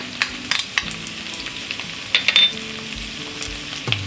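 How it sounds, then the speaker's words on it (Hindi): Spices frying in a pan over a low flame for a dry potato and cumin dish, a soft continuous sizzle broken by a few sharp clinks and scrapes of a spoon, close and quiet. "इसे हम लो फ्लेम में 2 मिनट तक फ्राई करेंगे।"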